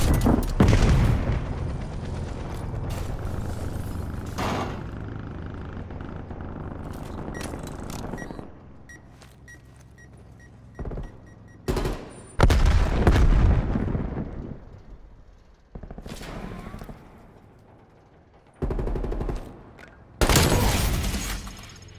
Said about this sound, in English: Multiple hostile sentry turrets working your AO.